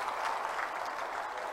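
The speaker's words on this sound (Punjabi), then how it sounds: "ਇੱਕ ਵਾਰ ਜ਼ੋਰਦਾਰ ਤਾੜੀਆਂ ਚਾਹੂੰਗਾ ਮੈਂ ਉਹਨਾਂ ਦੇ," A political crowd applauds at Bhagwant Mann's speech on becoming Punjab's 17th chief minister, a brief burst of distant, steady, faint clapping.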